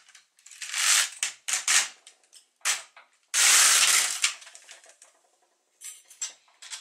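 An LK150 knitting machine carriage is pushed across the needle bed knitting a row with ravel cord, giving a series of loud, close mechanical rattling swipes and clacks of varying length with short pauses between them.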